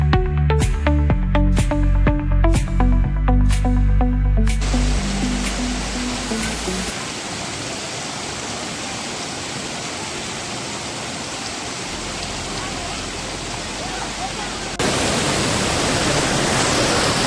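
A waterfall in Kerala roars as a constant, dense rush of water. It follows a few seconds of music and carries on steadily to the end, with a slight rise in volume near the finish.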